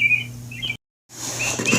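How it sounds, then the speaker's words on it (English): Birds chirping, played back through a monitor on a tablet, come as bright high tweets over a steady low electronic hum, cut by a short silent gap before the chirping resumes busier and louder. "all those birds you hear, that's the monitor on the other tablet"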